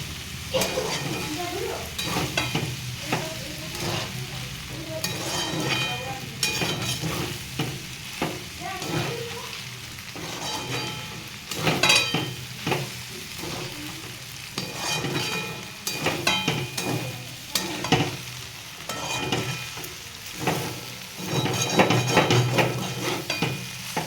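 Chow mein being stirred and fried in a wok on a gas stove, with a steady sizzle broken by repeated scraping and clattering strokes of the spatula against the pan, close and fairly loud throughout.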